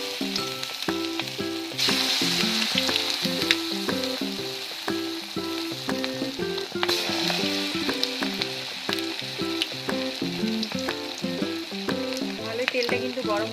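Marinated chicken pieces for pakoda fry in hot oil, a steady dense sizzle running throughout with a brighter burst of crackling near the start and again midway, under background music.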